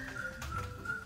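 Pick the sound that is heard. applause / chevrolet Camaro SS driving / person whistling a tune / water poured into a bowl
person whistling a tune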